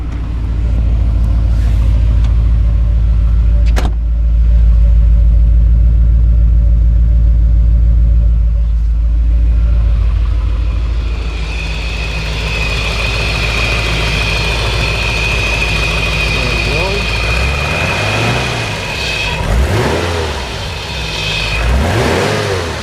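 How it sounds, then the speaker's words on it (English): A 1990 Porsche 928 S4 V8 engine idles with a steady low rumble, then revs up and settles, close by, with no talking. "I'll get out and have a listen to the engine."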